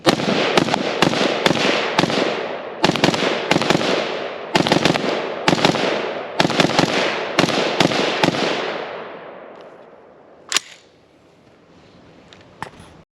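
An LMT Estonian R20 rifle fires a string of about fifteen sharp, loud shots in uneven bursts on an outdoor range, then falls quieter with two isolated later reports.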